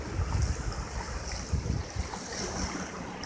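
Ocean waves washing ashore beside Cocoa Beach Pier in the morning, a continuous surf roar with soft swells and some wind buffeting the microphone, no voices.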